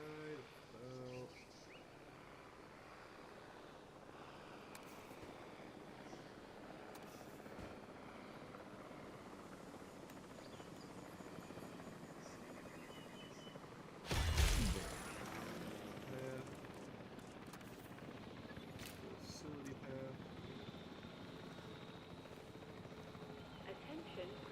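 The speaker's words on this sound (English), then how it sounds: "Please stand by for the returning helicopter." Helicopter returning in a video game, a steady rotor drone under continuous ambient game sound, with a brief loud whoosh of a burst about midway before the hum settles again.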